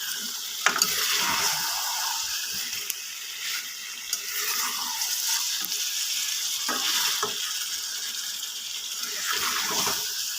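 Chicken frying with masala in a pan, a broad continuous close sizzle with scraping stirs and occasional clinks, loud and steady without talk.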